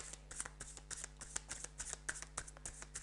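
Playing cards being shuffled close up, giving a quick series of crisp riffling flicks and snaps in an uneven rhythm over a low steady hum, with no talking.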